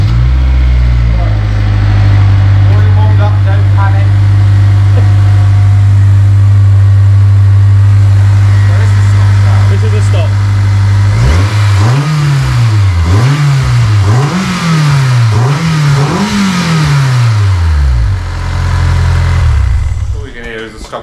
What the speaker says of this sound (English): that is an amazing exhaust system. It sounds so good, doesn't it?